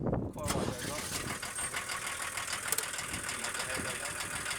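A 1987 Volkswagen LT35 diesel campervan engine cranks and catches, then settles into a steady, close mechanical rumble with a slight knocking diesel clatter.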